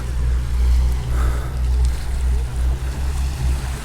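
Steady rumbling wash of surf on a beach in Sardinia under overcast skies, with wind blowing across the microphone, loud and continuous with a low droning undertone.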